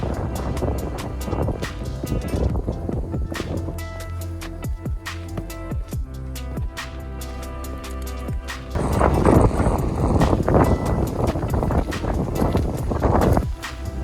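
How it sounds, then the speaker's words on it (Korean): Strong gusting wind on a rocky mountain ridge at Bukhansan near Jokdubong peak, roaring loud and close and buffeting the microphone in heavy rushes that build stronger partway through. "고도가 높아질수록 바람이 심하게 불어오네요."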